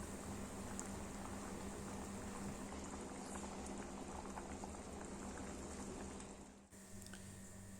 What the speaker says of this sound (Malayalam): നന്നായിട്ട് തിളച്ച് വന്നിട്ടുണ്ട് നമ്മുടെ മസാലയും പുളിയും ഒക്കെ ആയിട്ട്